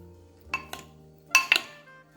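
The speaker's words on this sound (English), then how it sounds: "Give it another toss." Red cabbage and pear salad being tossed after a grind of cracked black pepper, with a few crisp clinks and scrapes of utensils against a bowl, two short pairs of sharp hits over a quiet background.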